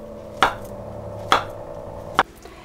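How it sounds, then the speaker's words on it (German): Knife slicing bananas on a cutting board: three crisp, separate chops spaced about a second apart, close and clear over quiet room hum. "Die letzten zwei Bananen, die werden jetzt in Scheiben geschnitten."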